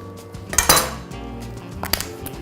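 A jar of Colman's mustard being opened, a few sharp clinks and a scraping twist of lid against glass, close and loud near the start, followed by lighter knocks and taps.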